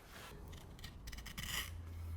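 A tenon cutter shaving a tapered wooden tenon on a chair part, giving soft, faint rasping scrapes in short irregular bursts, close up with no talking.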